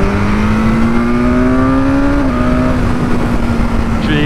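A 2021 BMW S1000R motorcycle engine accelerates loudly and close up, its rising whine shifting pitch with a gear change against heavy wind rush.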